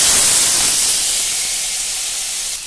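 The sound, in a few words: diced potatoes sizzling in hot oil with cumin and chilli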